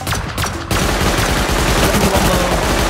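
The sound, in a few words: gunfire shooting at a turret in Rust video game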